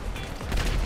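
Bursts of gunfire from GTA Online played on a PS4 Pro form a dense, rapid volley throughout the brief moment.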